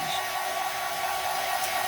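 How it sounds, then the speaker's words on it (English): A hair dryer blows steadily on a battery-operated candle to set its grubby coating, a constant close whooshing hum with no talking. "We're hitting it with the dryer so we can set it."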